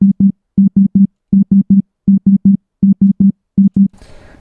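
A ReaSynth synth tone in Reaper plays a programmed rhythm guitar part: short, loud, evenly spaced notes in six groups of three, with a brief burst of noise at the end.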